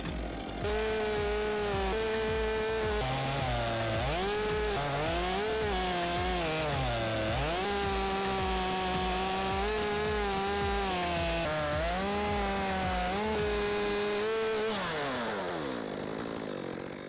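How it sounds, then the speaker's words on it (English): A chainsaw fitted with a milling attachment rips lengthwise through a log to cut lumber slabs, its engine holding a loud, steady drone for about fifteen seconds with slight pitch shifts under load before winding down at the end. "Continue cutting slabs using the same techniques you used for the first pass."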